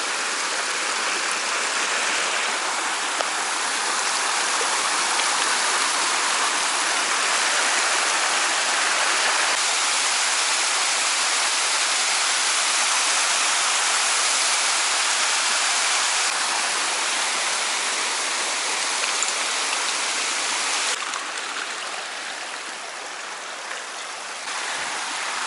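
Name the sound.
waterfall on the Yassi river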